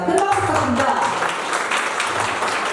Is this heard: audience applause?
yes